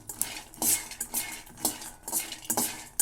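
A spoon stirs and scrapes ingredients being dry roasted in a pan with no oil, making rhythmic scraping and clinking strokes about twice a second, fairly close and moderately quiet.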